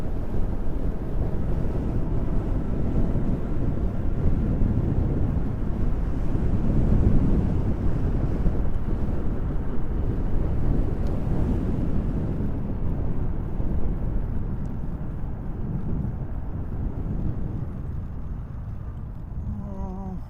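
Strong wind blows outdoors, a steady low roar with heavy buffeting on the microphone that holds loud for the whole stretch and eases slightly near the end.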